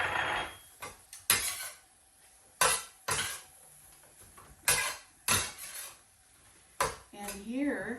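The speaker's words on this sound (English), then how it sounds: "I'm going to stir in the dried tart cherries and or cranberries" Dried tart cherries or cranberries get stirred into a glossy apple strudel filling, with irregular sharp clinks and knocks of a spoon against the pot, spaced out and close by, and a faint voice-like sound at the end.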